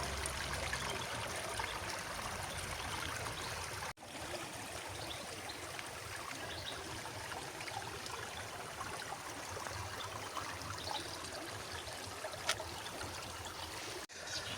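Water flows steadily from a village spring in Greece, a soft continuous trickle and splash heard faintly and evenly throughout.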